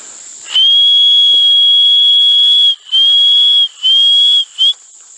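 A person whistles to racing pigeons at an aviary, one loud, steady, high tone held for about two seconds, then three shorter blasts in quick succession, close to the microphone, with a faint hiss underneath.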